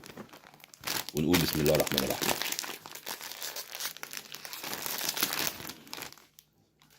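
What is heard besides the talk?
snack bag being opened, plastic crinkling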